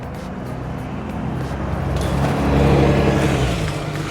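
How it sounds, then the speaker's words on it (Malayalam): A bus approaches and passes along a roadside, its engine rumble swelling to a peak near the end and then easing, heard alone at moderate distance. "ബസ് വരുന്നുണ്ട് സൈഡിൽ കൂടെ."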